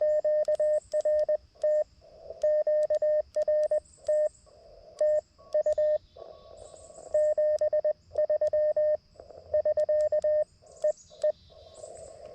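Digital WinLink radio station interfering on an amateur band, heard as a rapid series of steady pulsed tone bursts stopping and starting in irregular bursts over a faint hiss.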